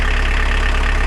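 Engine of a VW T25 van with a swapped 1900 engine, running just after start: a loud, close, steady idle with a fast, even low throb.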